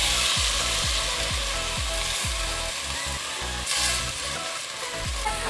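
Grated carrot and tomato go into a hot cooking pot in a home kitchen, giving a loud, steady sizzle and frying hiss with a few scraping stirs against the pot, with no voices.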